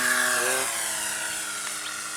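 An E-flite Extra 330 RC model airplane, rebuilt and on its maiden flights, drones overhead at a distance with a steady, buzzing propeller whine that sweeps in pitch at the start, then holds an even tone.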